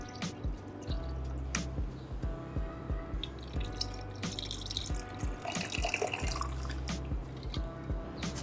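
Seltzer water is poured into a spritzer glass already holding lemon and elderflower vodka, making a steady splashing, dripping trickle with a brief fizzy surge partway through. It is heard close up with no voices.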